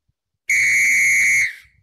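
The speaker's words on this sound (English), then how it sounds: "In the case of blowing of a whistle" One shrill whistle blast, loud and steady, holding for about a second before cutting off, heard alone in an otherwise quiet room during a school science lesson on pitch.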